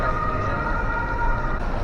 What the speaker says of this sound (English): You can hear the police car too.